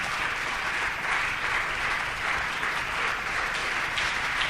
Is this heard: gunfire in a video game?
no